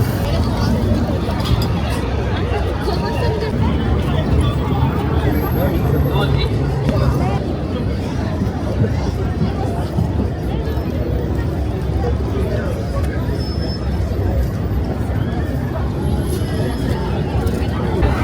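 A busy London street near Westminster: a dense, loud, steady wash of traffic rumble and crowd murmur from many voices, with buses and cars passing and no single sound standing out.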